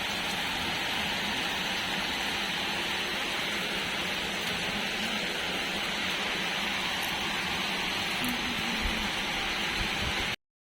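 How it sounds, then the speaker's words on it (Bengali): A heavy evening downpour of rain roars steadily and evenly, a constant dense hiss of falling water that ends abruptly. "দেখো কিভাবে বৃষ্টি শুরু হয়ে গেছে মুষলধারে"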